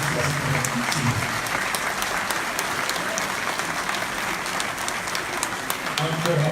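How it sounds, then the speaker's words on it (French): A university audience at UCAD claps after a lecture, producing a dense, sustained wash of applause that stays loud and even throughout. "Un fort applaudissement pour notre professeur."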